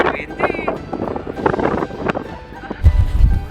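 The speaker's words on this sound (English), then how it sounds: "It's so windy." Strong wind gusts buffet the microphone on snowy Mount Wellington (Kunanyi) above Hobart, Tasmania, a steady rumbling roar with a heavier low thump near the end, while a person talks over it.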